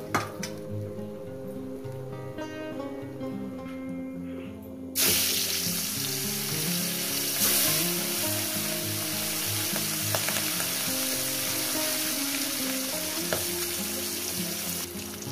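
Remaining katla fish pieces hit hot oil, and a moderate frying sizzle swells abruptly into a loud, dense, crackling hiss that carries on steadily with light stirring noises.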